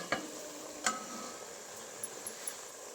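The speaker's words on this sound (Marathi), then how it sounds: "आता साईडला तेल सुटायला लागले ह्याच्यामध्ये ताटामध्ये काढून घेतलेलं सगळं मसाला टाकून घेते" Masala poured into hot oil and browned onion paste sizzles softly in a pan while being stirred, with a few sharp clinks of a spoon against the metal.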